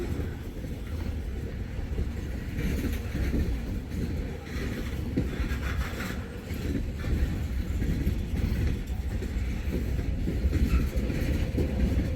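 A long freight train on the Wheeling & Lake Erie, loaded with crushed scrap metal, rolls steadily past a grade crossing. It makes a loud, continuous rumble and rattle of wagons, with wind buffeting the microphone throughout.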